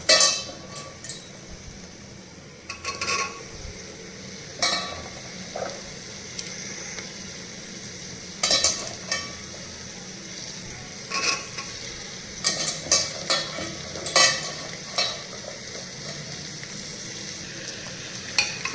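Kidney beans tossed into frying masala in a pan for Punjabi home-style rajma, a continuous sizzle broken by repeated scraping, clacking stirs and wet squelches at irregular intervals, close and moderately loud.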